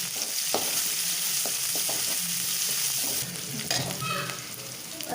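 Onions sizzle in hot oil with fennel seeds, a steady close crackling fry with stirring scrapes and a brief rise in hiss near the end.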